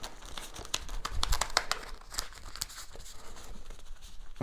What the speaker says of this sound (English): Now, hopefully this is a pretty decent shuffle.